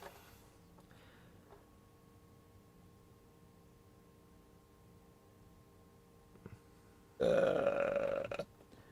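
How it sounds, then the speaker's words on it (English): A loud, drawn-out burp of about a second, rising abruptly out of a quiet room with a faint steady hum. "Was that a burp?"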